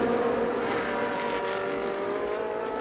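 Ferrari Challenge race cars running side by side under heavy braking at the Trofeo Pirelli World Final, a steady loud engine drone with whining harmonic tones that holds without a break.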